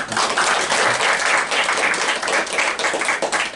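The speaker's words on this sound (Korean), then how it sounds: "이정민 교수님께 다시 한번 박수 부탁드립니다" A lecture audience gives a dense burst of applause with many hands clapping at once. The sound is steady and moderately loud for a few seconds, with no voices over it.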